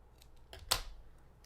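Scissors snip through a paper shoe shape to shorten it, one crisp close cut with a couple of faint clicks around it, quiet overall.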